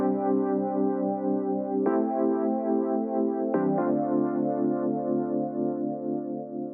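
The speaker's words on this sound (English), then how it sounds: "In the first break section I had these 2 chords" Sustained synthesizer chords from an FL Studio track, a warm, dense pad that shifts chord twice with soft attacks, playing alone at steady loudness.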